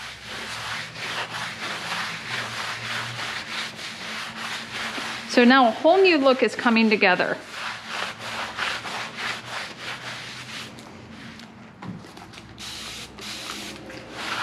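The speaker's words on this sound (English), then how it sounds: "Get some paper towels bundled up," Wet bundled paper towels rub back and forth over painted dresser wood after a water spray, a steady close scrubbing that runs throughout, with a brief louder burst midway and a person speaking over part of it.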